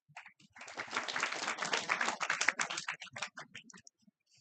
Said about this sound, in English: when I say clap, I want you to clap.